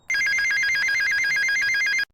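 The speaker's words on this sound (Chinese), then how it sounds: "电话铃声却骤然响起" A single burst of trilling electronic ringing from a telephone sounds loud and close for about two seconds, then stops abruptly, with no voices.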